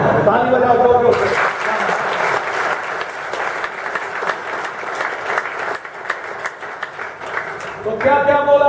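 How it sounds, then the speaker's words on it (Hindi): A student audience at a motivational talk breaks into loud, sustained applause that lasts about seven seconds. A voice speaks briefly at the start and again as the clapping fades. "ताली बजाओ जोर से।"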